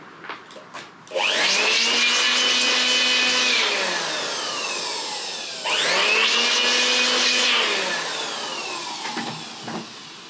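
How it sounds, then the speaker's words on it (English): An air compressor drives a small detailing tool while painting Harley-Davidson Evolution heads and cylinders, giving two sustained loud hissing bursts of spray, each a few seconds long, separated by a short gap, with faint clicks around them. "I'm gonna use the little detailing tool with the air compressor."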